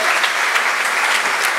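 Dense, steady applause from an audience at a Greek book presentation, loud and continuous with no talk over it.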